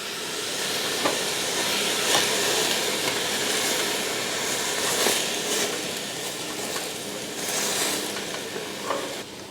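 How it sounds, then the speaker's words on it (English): Minestrone soup made with home canned tomato sauce simmering in a pot, a steady broad hiss and bubbling sizzle that runs unbroken and fairly loud, with small pops scattered throughout and no voices. "So we are to leave this for about 5 minutes and just kind of let this simmer together."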